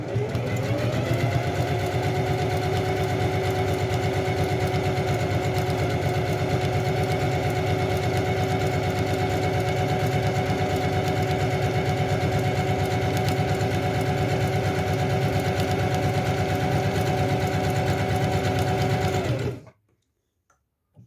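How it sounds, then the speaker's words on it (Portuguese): A sewing machine stitches a zigzag seam through fabric, running steadily with a loud, continuous mechanical whir for about nineteen seconds before stopping abruptly. "Posicione o tecido na máquina e costure."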